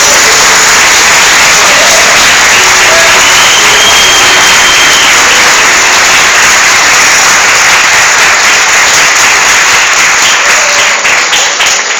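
A church congregation claps together in a tribute to a pastor, a dense and steady wash of applause that fills the whole stretch and fades slightly at the very end.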